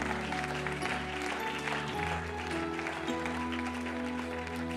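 A church congregation claps and applauds in praise of Jesus during a service, steady sustained applause filling the room over held organ or keyboard tones.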